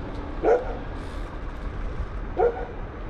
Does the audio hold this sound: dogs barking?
yes